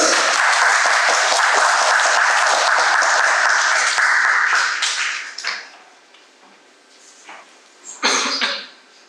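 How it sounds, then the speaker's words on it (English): An audience at a science talk on astrophysics claps steadily for about five seconds to welcome a speaker, then the applause fades into scattered claps, a cough and small taps. "let's welcome her with a round of applause"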